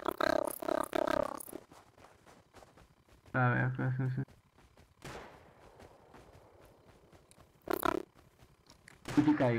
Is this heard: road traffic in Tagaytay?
no